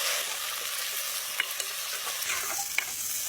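Large onions frying in hot oil in a pan, a steady soft sizzle with a few brief stirring clinks, fairly quiet and close, no talking.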